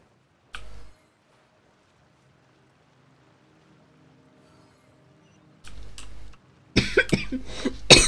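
Several bursts of coughing from a person during Genshin Impact gameplay, short isolated coughs separated by near silence, then a louder cluster of coughs and noise at the end.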